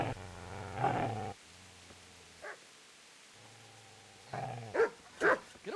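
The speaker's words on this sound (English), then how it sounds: "Get away, you mutt!" A dog in the medieval video game Kingdom Come barks several times in short bursts, with low growling between and a voice speaking around the barks at close range.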